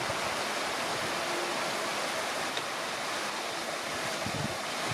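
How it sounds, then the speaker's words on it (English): Waterfalls trickling down at Swatara State Park, a steady broadband rush of falling water heard from a distance, unbroken and even throughout. "waterfalls trickling down."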